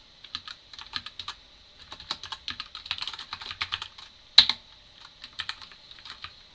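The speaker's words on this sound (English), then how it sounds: "I will just type everything." Someone types on a computer keyboard, a close run of quick irregular key clicks in bursts with one sharper stroke near the middle, against a quiet background with no talking.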